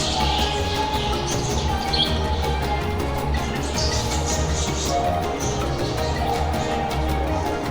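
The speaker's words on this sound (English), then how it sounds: "That tree is full of parakeets." Parakeets chirp from a tree at the zoo, a busy chorus of bright tweets over constant background hum, fairly distant and continuous.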